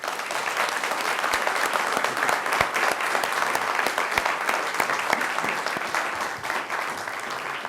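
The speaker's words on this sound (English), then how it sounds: "I hope you all will join me in giving them a round of applause." A crowd at a public forum for police chief candidates applauds steadily, dense clapping sustained and fairly loud throughout, with no talk over it.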